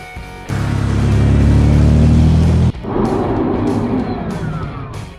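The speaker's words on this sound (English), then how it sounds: "Glass truck." A glass truck's engine runs with a steady, heavy low drone that swells for a couple of seconds, then drops and shifts to a rougher, slightly quieter rumble, with no voices.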